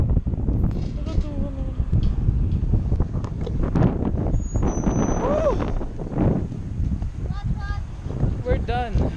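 Strong gusts buffet the microphone with loud, continuous low rumbling in an outdoor setting near a bell tower, while people talk over the wind throughout.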